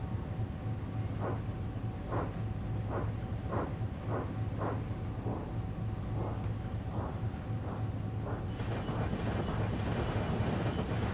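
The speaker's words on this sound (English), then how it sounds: "Toby heads off with his train" A small tank engine pulls its train along the rails, with a steady rhythmic clickety-clack of wheels over rail joints, a low rumbling drone beneath, and a brighter hiss and squeal rising near the end.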